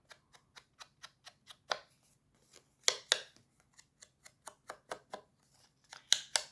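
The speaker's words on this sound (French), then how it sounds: "il faut que j'arrive à couper des morceaux, des têtes là" Scissors snip through cream-coloured paper in a quiet room, a steady run of small crisp clicks with a few louder cuts.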